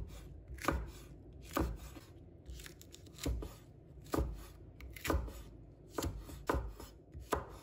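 A knife chops red chili pepper into strips on a cutting board, giving about nine crisp, evenly spaced cuts at close range with no talking.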